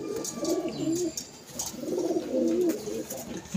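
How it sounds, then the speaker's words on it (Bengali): An old female pigeon in a home loft coos in two soft, rolling phrases with a short gap between them, close and clear, with no talk over it. "তো বন্ধুরা, এটা আমার লফটের অনেক পুরনো পায়রা"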